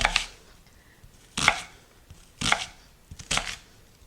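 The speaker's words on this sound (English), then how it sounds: "I'm going to chop up my onion." A knife chops roughly through a halved onion on a cutting board, four separate sharp thuds spaced about a second apart, close and clear with quiet gaps between them.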